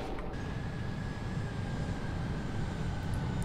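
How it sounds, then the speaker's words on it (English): Aircraft roaring overhead in the video game Kane and Lynch 2, a steady, broad engine rumble that holds constant throughout. "Love how the planes go over and they cast the light like that."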